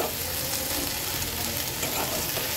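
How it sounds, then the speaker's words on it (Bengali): Garam masala paste frying and being stirred in a hot pan, a steady dense sizzle running close and even throughout, with no voices. "এই হচ্ছে গরম মশলা বাটা, এটা আমি এখন দিয়ে দিলাম। দেওয়ার পরে একটু নেড়ে চেড়ে দেব।"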